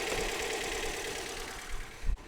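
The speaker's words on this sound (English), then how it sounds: "the engine is operating above 1000 RPMs and it's operating just as normal because it's cold" A cold Toyota car engine idles fast, held above 1000 RPM: a steady, close mechanical hum with a faint knocking edge, running alone and unchanged for the whole stretch, with a brief louder thump near the end.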